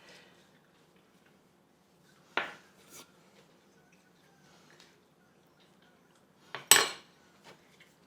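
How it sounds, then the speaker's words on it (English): A fork clinks against a bowl twice while mixing egg into flour for pasta dough, two sharp close scrapes separated by seconds of near silence, with faint handling rustle between. "You can continue with the fork and just dive in there with your hands if you like."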